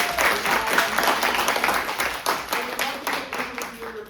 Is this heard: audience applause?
yes